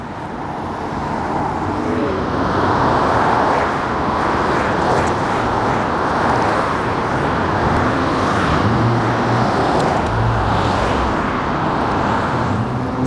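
Steady, loud roar of vehicles on a three-lane freeway on-ramp in downtown Los Angeles, a continuous wash of tires and engines heard nearby without talk.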